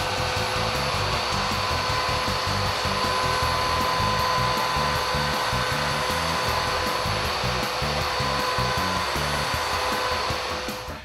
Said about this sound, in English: Then you vacuum up the powder.